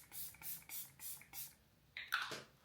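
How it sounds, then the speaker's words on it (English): Setting spray misted onto a face in several quick pumps, each a soft airy hiss in a steady rhythm, close and clear, followed by a louder burst near the end. "now I'm going to spray again because I've made myself really matte"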